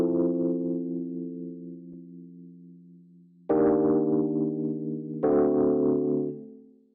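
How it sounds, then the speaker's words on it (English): Rhodes-style electric piano chords from an Ableton preset, for lo-fi house: three soft, warm chords, each left to ring and fade slowly, heard clearly and alone. "And so I have this sort of like Rhodes kind of sound."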